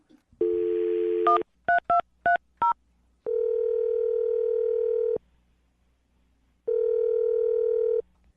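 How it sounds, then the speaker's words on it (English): A quick series of touch-tone beeps as a number is dialed, followed by long steady ringback tones with a pause between, no voices. "I'm going to dial her phone number right now."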